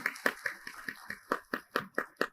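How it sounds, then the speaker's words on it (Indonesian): About eleven sharp, evenly spaced claps ring out close and fairly quiet at a business-outlook seminar, a short rhythmic run with no talking over it. "Tepuk tangan dulu untuk Pak Adit."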